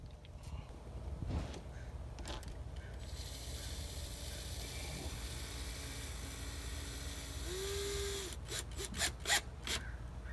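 A hand tool works on a Corvette C5 cold air intake, giving quiet ratcheting clicks and rubbing. The faint, intermittent sounds are close by and end in a few sharper taps.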